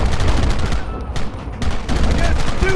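Dense gunfire in the Red Dead Redemption game: a continuous fusillade of overlapping shots, loud and close, with brief lulls, a voice mixed in underneath.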